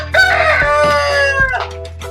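Heritage chickens with a rooster giving a loud, close crow lasting over a second, followed by a shorter second call and some clucking.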